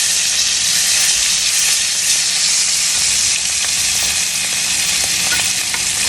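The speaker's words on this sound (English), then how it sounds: "As that butter starts to melt, you want to baste." A pork steak fries loudly in a pan with melting butter, garlic cloves and rosemary, a dense continuous sizzle and hiss with faint spoon-basting movement, close up and without talk.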